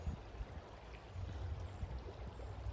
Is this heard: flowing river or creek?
yes